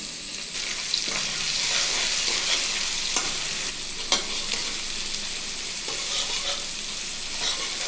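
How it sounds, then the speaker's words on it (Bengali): Chopped onions sizzle in hot oil with cumin seeds, bay leaf and dried chili on low heat, a steady bright frying hiss with occasional scraping stirs and light clinks, close and continuous without talk. "এবার আমি পেঁয়াজগুলো দিয়ে দিলাম।"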